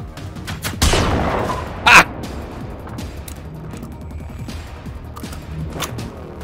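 Gunfire in the video game Generation Zero: two sharp, loud shots crack about a second apart. Fainter pops and rumbling follow over quiet ambient game sound.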